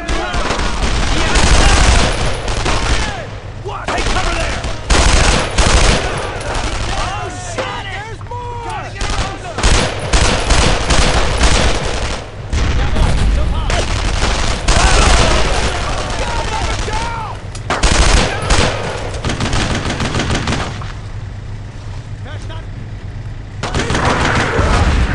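Heavy sustained gunfire and machine-gun bursts aimed at a tank in the video game Brothers in Arms: Road to Hill 30, loud and continuous with shouted voices mixed through the firefight.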